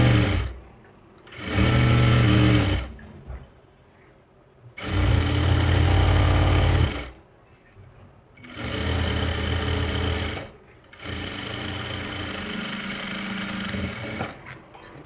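A sewing machine stitches a salwar cuff in four distinct bursts of fast, loud, close whirring, separated by short quiet pauses, with no talk.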